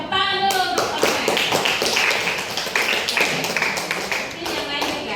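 Claps from a group at an Indonesian school gathering, sharp individual hand strikes sounding close and irregular, mixed with talking and a tonal voice at the start.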